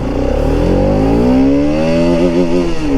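A Bajaj RS200 BS6 motorcycle accelerates hard in first gear, its engine note climbing steadily in pitch with a loud, close, continuous growl and slight warble near the end.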